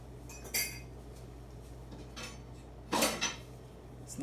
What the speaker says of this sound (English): So I'm taking my spatula and just mixing everything in together.